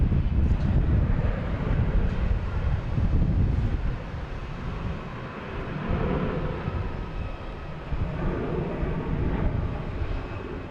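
A Spirit Airlines airliner passing overhead near Boston Logan Airport, a broad rumbling roar that swells and fades, with gusty wind buffeting the microphone.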